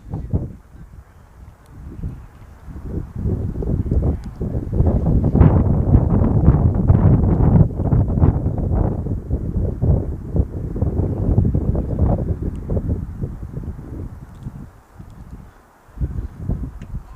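Wind buffeting an outdoor football pitch during a match: steady, loud gusty roar with rumbling low-end swells, easing near the end and then picking back up, with no voices.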